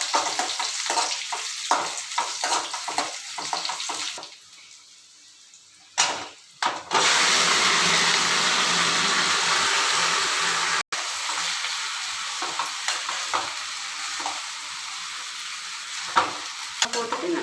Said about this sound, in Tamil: 3 வத்தல், எடுத்து வச்சிருக்க பொடி போட்டு நல்லா வதக்கிட்டு